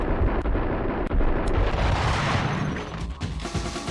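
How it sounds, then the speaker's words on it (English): A grenade explodes in the video game Max Payne, a loud, dense rumbling blast that fills the whole clip before tapering slightly at the end. "Yeah, the grenade was at his feet."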